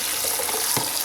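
Bacon being rinsed under a running kitchen tap, a steady close hiss of flowing water spattering over the meat in the sink, with no voices.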